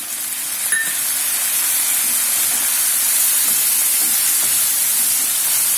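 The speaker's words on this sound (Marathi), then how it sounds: "त्यामध्ये आता सोया सॉस टाकूया." Soy sauce hitting a hot pan while cooking egg chilli, a loud, steady broadband sizzle and hiss that fills the whole stretch with no speech.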